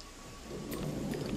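Thunder rolling over steady rain in the video game Alice: Madness Returns, a low rumble building from a soft start into a louder, sustained roar with rain hiss throughout.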